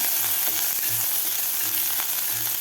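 Grated ginger and green chillies fry in hot oil, a steady close sizzle with a faint low hum pulsing underneath, no voices.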